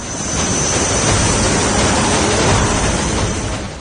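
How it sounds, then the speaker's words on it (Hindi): Indian LCH multi-role combat attack helicopter at high altitude in the Himalayas, a steady loud engine and rotor roar with a whining high tone on top, continuous and unbroken throughout with no talk. "ये हिंदुस्तान का अपना बनाया हुआ है एक कॉम्बैट हेलीकॉप्टर है जो मल्टी रोल अटैक हेलीकॉप्टर है।"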